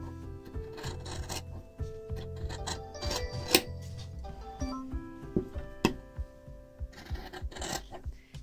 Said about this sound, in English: I'm just going to trim all the way around right on the edge of that sew line